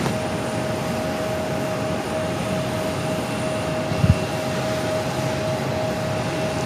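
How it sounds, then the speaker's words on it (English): American Airlines A321neo arriving from Philadelphia at Phoenix, touching down on runway 8: a steady, distant broadband jet roar with a faint tonal hum, plus a brief low thump near the end. "This arrival is American Airlines 2102 coming in from Philadelphia on the A321neo"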